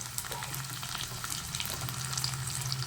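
Garlic, ginger, cinnamon, cloves and tomato fry in a pan for mutton sambar, giving a soft, steady sizzle with a low constant hum underneath.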